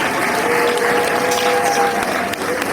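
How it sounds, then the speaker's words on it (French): Loud, dense crowd applause fills a ceremony honouring a Congolese musician's 20-year career, continuing steadily for several seconds after a speech, with faint held tones in the background. "Est-ce que ça ne mérite pas des applaudissements?"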